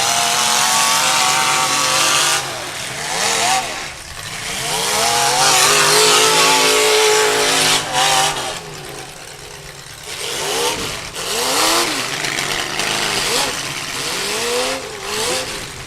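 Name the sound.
demolition derby car engine revving, likely LS motor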